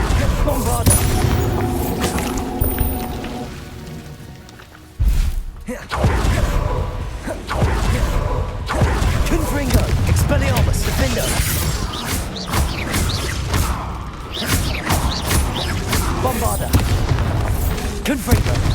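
Bombarda spell explosions in Hogwarts Legacy, heavy booming blasts and crashing combat effects that run almost continuously and loudly, broken by one brief drop-out before the barrage resumes.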